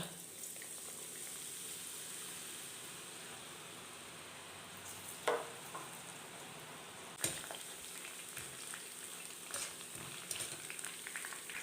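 Boondi drops of gram flour batter frying in hot oil for laddu, a steady close sizzle and bubbling throughout with a few sharp clinks of a ladle, no talking.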